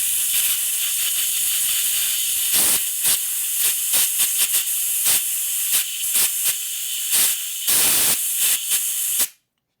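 Compressed air hissing loudly and continuously into a 1988 Harley-Davidson FXR engine during lifter and pushrod work, broken by short pauses and cut-off bursts before stopping abruptly, with no talk.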